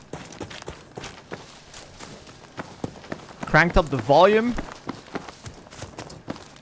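Steady, evenly spaced footsteps run through a round of Battlefield's battle royale mode, quiet and continuous beneath a player's close, loud commentary that swells midway.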